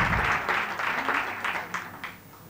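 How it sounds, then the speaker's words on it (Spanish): A conference audience applauds in a brief burst that starts full and thins into scattered claps, fading over a couple of seconds. "Podéis aplaudir"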